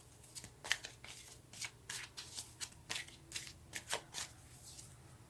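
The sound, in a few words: shuffling tarot cards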